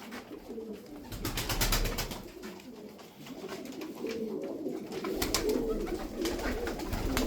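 Pigeons coo repeatedly in a loft where young birds are kept, their soft throaty calls overlapping steadily at close range with occasional wing flutters and no voices.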